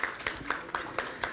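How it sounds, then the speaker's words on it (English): Slow, sparse hand claps welcoming a guest onto a corporate panel at a technology event, about six evenly spaced claps, quiet and somewhat distant, with no talking. "Let's have a round of applause to welcome Navnit"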